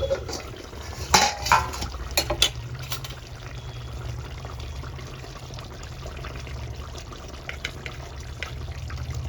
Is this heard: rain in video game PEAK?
no